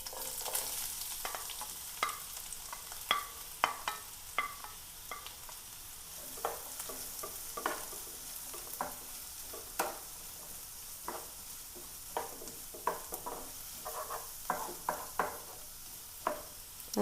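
Onions hit hot oil in a pan with a quiet, continuous sizzle, and regular sharp scrapes and taps of stirring come through clearly on top.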